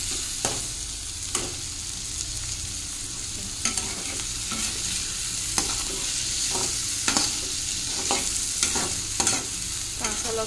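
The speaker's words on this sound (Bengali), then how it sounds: "আলুটা একটু কষাই করছি, তাতে একটু টমেটো দিয়ে দিলাম, দিয়ে ভালো করে কষাই করব" Potatoes and tomato sautéing in a hot pan, with a steady frying sizzle and repeated sharp scrapes and clinks of a spatula stirring at irregular intervals, close and fairly loud with no talk.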